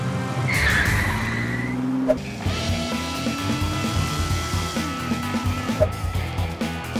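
Cartoon race cars speed through a night race with loud skidding, squealing tires over roaring engines, a long screech at the start, then a sharp hit and more revving and sliding.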